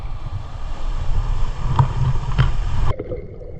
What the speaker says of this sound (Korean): 어, 파도 너무 세다